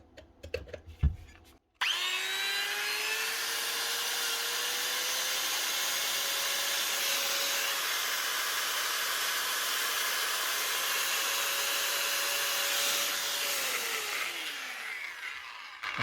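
A repaired power tool switches on after a few clicks and runs with a steady whine that rises in pitch as it speeds up, holds, then winds down near the end, loud and close.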